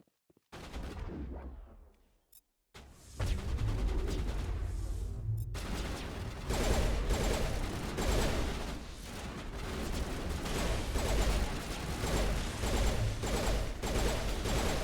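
Sustained gunfire from a battle against turrets in the video game Mass Effect, a dense continuous barrage of shots and blasts after a brief quiet start, loud and without talk.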